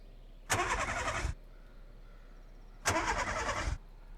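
A mail truck engine starting in the video game VEIN, heard as two separate loud broadband bursts of cranking and engine noise, each about a second long, with quiet pauses between them.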